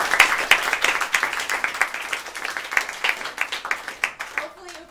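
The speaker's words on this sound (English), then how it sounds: "we want to give you a round of applause" A small room of club members at a university meeting applauds, with distinct individual claps forming a lively patter that thins out and fades, and a voice speaks as it ends.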